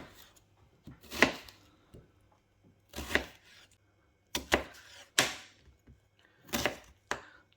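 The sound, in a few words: knife chopping vegetables on a board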